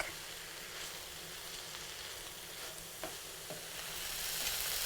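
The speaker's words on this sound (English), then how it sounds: "We'll continue stirring until everything is nicely blended and soft enough" Celery and green onion filling sizzling softly in a frying pan while being stirred, a steady low hiss with a few faint scrapes, quiet throughout and rising slightly toward the end.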